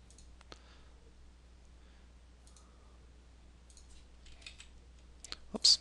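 Computer mouse clicks during software workflow editing, a few faint isolated clicks spread out in a quiet room, with a sharper, louder click cluster near the end.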